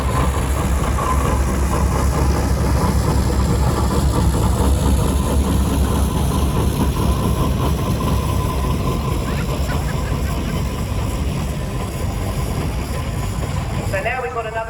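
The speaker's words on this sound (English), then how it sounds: "This one is a 7 horsepower engine" A 7 horsepower steam traction engine, restored with a new boiler, firebox and tender, runs in the arena at a country show near Ringmer, East Sussex, giving a steady, loud mechanical rumble under continuous crowd noise and talk, with a brief rattle near the end.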